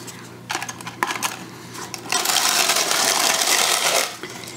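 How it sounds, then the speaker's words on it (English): A hand grinder crunches chicken breast crisps, first in short clattering bursts, then a steady rasping grind for about two seconds, close and fairly loud, with a person talking around it. "I've stuffed this thing full with chicken breast crisps, and I'm going to grind them"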